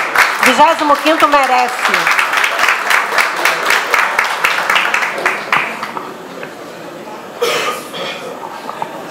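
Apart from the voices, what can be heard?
round of applause for the 25th Battalion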